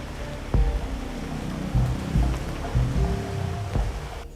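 Steady rain falls around people sheltering under an umbrella near a roadside warung, a continuous wash of patter broken by a few soft thumps of drops, with no one speaking.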